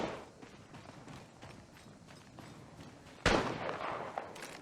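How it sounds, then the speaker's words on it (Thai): Gunfire in the Apex Legends Mobile video game: faint scattered shots, then a louder sudden burst followed by more rapid cracks, all fairly quiet. "กำลังยิงต่อสู้"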